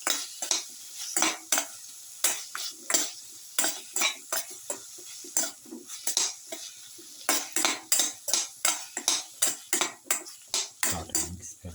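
Cumin, potato and tomato rice sautéed in a pot, a long run of rhythmic metal utensil scrapes and clanks, roughly two per second, over a faint sizzle.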